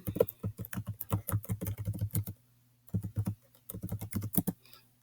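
Fingers tap out an email address on a computer keyboard in quick, steady bursts of close keystrokes, with a short pause midway before the typing resumes; no one speaks.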